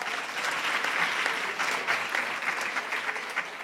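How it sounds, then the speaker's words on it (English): A school audience applauds for broadcast television students, giving a dense, steady round of clapping that carries through the whole clip with no pause. "Can we get one more round of applause to our broadcast television students?"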